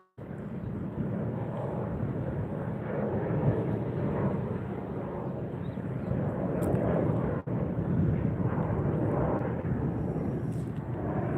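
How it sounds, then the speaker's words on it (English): An Airbus A380 jet airliner takes off at LAX, heard from the beach as a sustained, distant low roar that swells slightly and holds steady, with wind buffeting the microphone and no talk. "2 back-to-back A380s taken off."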